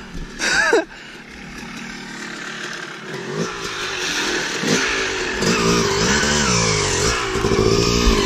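A dirt motorcycle revs hard through a burnout on a muddy woods trail, its engine rising and falling in loud, rough bursts close by, with a brief voice heard near the start.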